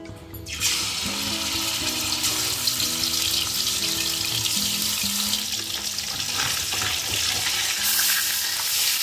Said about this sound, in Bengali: কড়াই গরম হয়ে গেছে, সরষের তেল দিয়ে দেবো মাছ ভাজার জন্য।